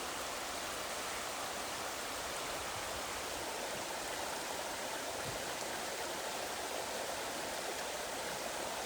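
A river rushes along a hiking trail in Cades Cove, giving a steady, even broadband roar of flowing water close by with no voices over it.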